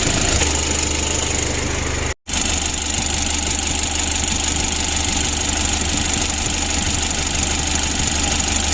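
A Mitsubishi L300 diesel engine with a worn rotor head idles while warming up, a loud, steady mechanical rumble with a faint knock that cuts out for a split second before resuming.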